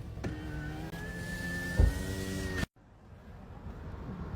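A parked car's engine idles with the air conditioning running, a steady close hum carrying a thin whine that cuts off abruptly, leaving only a faint background murmur.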